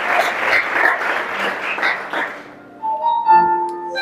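Congregation applause during a church service, dense clapping for about two and a half seconds that fades, followed by a held musical tone as it dies out.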